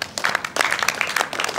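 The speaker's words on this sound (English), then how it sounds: "please put your hands together by way of celebration" An audience at a money conference claps for a speaker being welcomed to the stage, a brief burst of dense, close applause with no voices over it.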